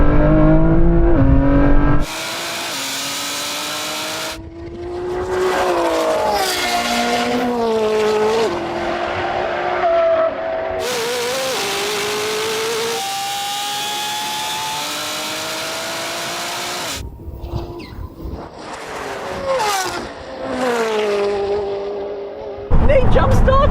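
Engines of a Koenigsegg Jesko, Lamborghini Revuelto and a 1,000hp BMW M3 screaming through rising gear shifts in a loud drag race, roaring up and dropping between shifts, with engine tones changing as the cars pull away.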